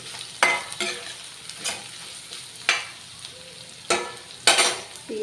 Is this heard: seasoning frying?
yes